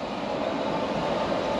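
A Thameslink train departing Blackfriars station rumbles steadily nearby with a constant, broadband roar of wheels and motors, loud and unbroken throughout.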